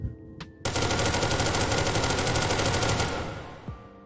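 Sustained full-auto fire from an AK-style rifle in SCP: Secret Laboratory, a dense rapid burst of about two and a half seconds after a brief lead-in, loud and close, then tailing off.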